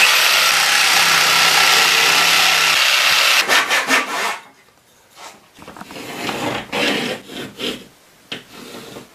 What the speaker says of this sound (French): couper avec une scie sauteuse si vous en avez une, vous lancez la lame et vous faites votre coupe